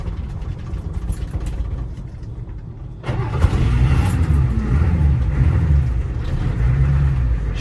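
A cheap used diesel truck engine idles with a low rumbling chug, quieter at first, then turning rougher and louder after a few seconds as it keeps running unevenly.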